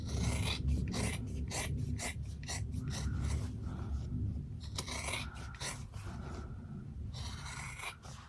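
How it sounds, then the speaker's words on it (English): Scissors snipping around a quilted fabric beauty bag, a series of close, brisk rasping cuts in quick bursts with brief pauses between strokes, no talking. "I'm gonna go ahead and cut to an angle like this, then turn and just cut around."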